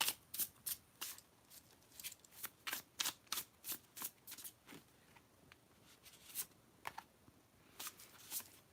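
Tarot cards being shuffled in a rapid series of crisp, papery riffles and snaps, close and fairly quiet, continuing steadily with no voices.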